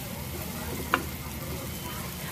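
Spices being stirred into prawn pulao in a pan, with a steady sizzle and a single short scrape of the spoon.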